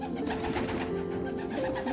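Racing pigeons, including a young Belgian pigeon, coo in low, throaty warbles close by, layered over a steady background murmur.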